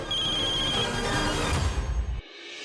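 A phone ringtone plays steadily and fairly loud, then cuts off abruptly near the end, leaving quiet room tone.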